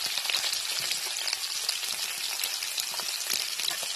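Potatoes frying in hot oil with salt added, a dense, even crackling sizzle heard up close and continuing without pause, no one talking.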